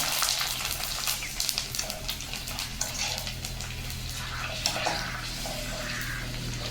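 Pani puri dough rounds frying in hot oil, a steady dense sizzle and bubbling that carries on throughout, with a low hum beneath it.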